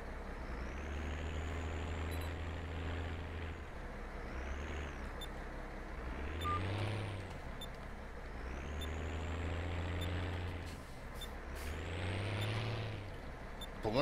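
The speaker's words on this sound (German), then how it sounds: "Und jetzt das nächste Gepiepe ist vom Promods" Repeated electronic beeping from the Promods mod in Landwirtschafts-Simulator 17, a series of rising tonal beeps recurring every couple of seconds over a steady low truck engine drone, with someone speaking faintly in the background.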